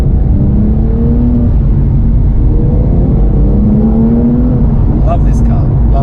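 A Porsche 997 911 drives along, its engine a loud, steady low rumble inside the cabin with a mild rising pull partway through and a brief high rattle near the end.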